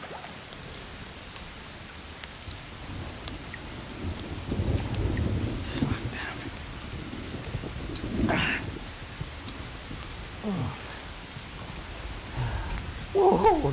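Rain and rolling thunder in a dramatic film scene, a steady wash of rain with a couple of deep thunder rumbles swelling mid-clip, heard without speech.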